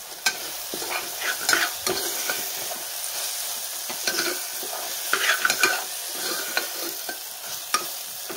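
A spoon stirs a peas and beans curry with chili powder in a pan, making repeated scraping and clattering strokes over a low sizzle, close by and with no talking.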